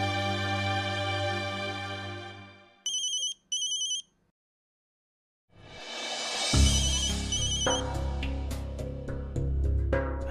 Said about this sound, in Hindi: वैशु का फोन